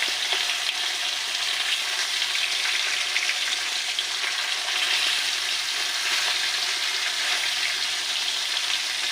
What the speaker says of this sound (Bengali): সর্ষের তেলটা বেশ ভালোভাবে গরম হয়ে গেছে মাছ ধরে দিচ্ছি